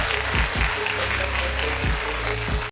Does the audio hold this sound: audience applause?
yes